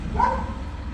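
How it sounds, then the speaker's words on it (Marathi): A single short dog bark sounds at moderate distance over a low background hum. "शेजारीच कुत्रा आहे तो बघा भुंकत आहे आता"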